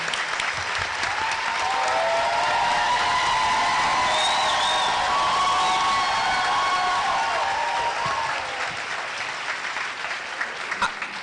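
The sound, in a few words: audience applause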